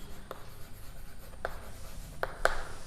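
Marker or chalk strokes on a board during a classroom lesson, a few short, distinct scratches spaced apart over a quiet room background.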